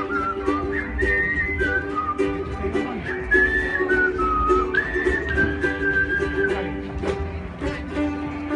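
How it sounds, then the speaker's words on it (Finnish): A melodic tune is whistled clearly and steadily over ukulele ensemble accompaniment at a folk music performance at Kaustinen, the whistling prominent and sustained with smooth pitch glides. "minä läksin viheltäin"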